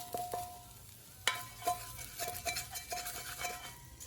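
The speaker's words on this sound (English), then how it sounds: "Sizzling pretty good." Meat sizzles in a hot pan while a utensil scrapes and clinks against it in irregular strokes, close up, with no voices.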